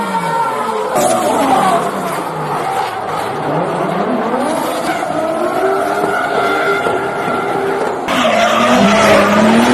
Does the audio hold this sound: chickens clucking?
no